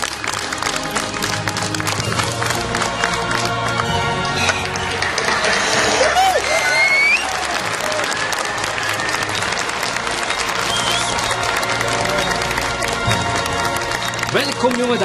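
A studio audience on a TV talent show applauds a young woman, with dense, steady clapping and crowd noise filling the whole stretch alongside music and a few voices.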